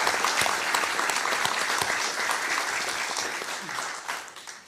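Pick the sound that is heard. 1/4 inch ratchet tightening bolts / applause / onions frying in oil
applause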